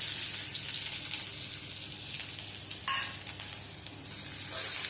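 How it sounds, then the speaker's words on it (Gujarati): Ginger and green chillies fry in hot oil with cumin seeds, giving a steady, dense sizzle up close throughout, with faint stirring scrapes and nobody speaking. "હવે આદુ મરચાં આપણા તતળાઈ ગયા છે"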